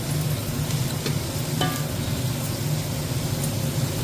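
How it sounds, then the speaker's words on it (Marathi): Onion sautéing in a pan for egg bhurji gives a steady, close sizzle with soft stirring scrapes, continuous and fairly loud, with no talk. "आपल्याला आता हा कांदा छान सॉफ्ट होईपर्यंत छान परतून घ्यायचा आहे"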